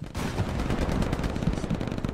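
Rapid bursts of automatic gunfire from an FPS video game crackle continuously and loudly at close range, a dense rattling fusillade with no talk.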